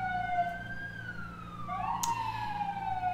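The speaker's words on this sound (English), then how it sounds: "Sorry about the ambulance." An ambulance siren wails through a city, its tones sweeping and shifting pitch as it passes at a moderate distance, heard alone.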